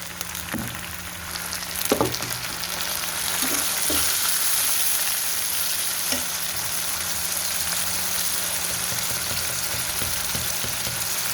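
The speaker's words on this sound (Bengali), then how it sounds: "পেঁয়াজগুলো ভাজা হয়ে গেছে, দিয়ে দেবো একটু পানি।" Fried onions in a pan sizzle steadily after a splash of water, a continuous loud hiss with a few clanks of stirring near the start.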